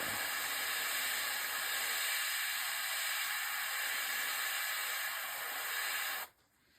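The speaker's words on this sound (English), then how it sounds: "I'm just hitting it with air to let it dry." An airbrush blows a steady, close hiss of air to dry paint on a model, holding constant for about six seconds before cutting off abruptly.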